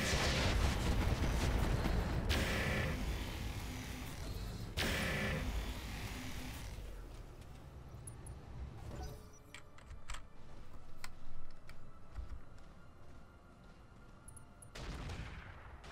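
Weapons fire from battling mechs in the Roguetech game, with dense loud volleys of blasts and explosions for the first several seconds, then sparser thuds and rumbles fading into a quieter low background.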